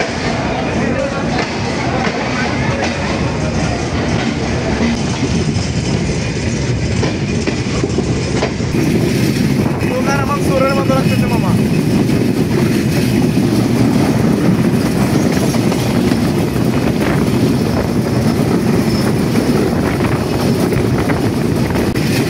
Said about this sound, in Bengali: বিরামপুর রেলওয়ে স্টেশন থেকে আমাদের ট্রেন এখন জয়পুরহাটের উদ্দেশ্যে চলে গেল